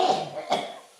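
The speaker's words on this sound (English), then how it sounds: "Excuse me while I cough up a lung." A single harsh cough followed by a second, sharper one from a man in an auto body workshop, close and fairly loud, trailing off into quiet.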